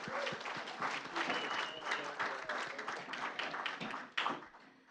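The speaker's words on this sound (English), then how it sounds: "let's have one more round of applause for our tech teams" An audience at a school board meeting applauds the district's tech teams: a dense, steady wash of many hands clapping at close range, lasting throughout and fading at the end.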